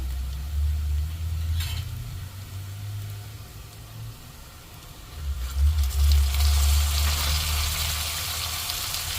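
Finely chopped tomato drops into softened frying onions for a Maharashtrian matki bhaji, setting off a loud, steady sizzle that swells after a brief lull, with stirring scrapes close by.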